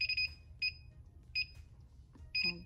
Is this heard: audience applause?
no